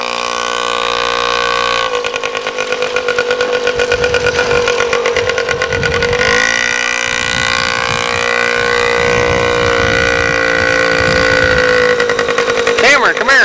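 Several motorcycles run close by, their engines humming and revving steadily at mid pitch throughout, with a brief rise in pitch near the end; voices can be heard beneath the engine noise.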